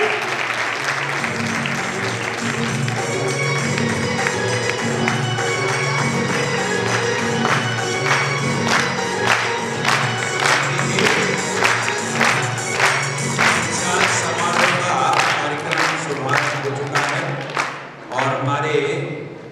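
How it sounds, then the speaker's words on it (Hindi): Audience at a convocation ceremony breaking into loud sustained applause, many hands clapping with some cheering, swelling into rhythmic clapping before cutting off near the end, with speech over it. "जोरदार तालियों से इनका स्वागत करें"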